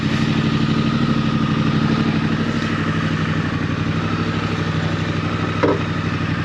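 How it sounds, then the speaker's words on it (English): Triumph Scrambler 900 motorcycle engine running close by, a steady, loud, throbbing idle with even pulses and no voices. "they're loaning me this lovely Triumph Scrambler 900 for an hour or so"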